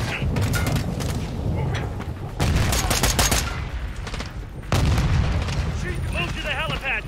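Gunfire in Call of Duty: Modern Warfare 2 during story mode, with dense bursts of automatic shots and booms in loud waves, while voices talk over the shooting.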